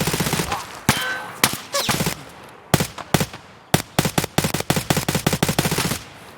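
Gunfire in the video game Escape from Tarkov: loud sharp shots, a few single cracks early on, then rapid bursts of automatic fire with short gaps between them, close and dominant.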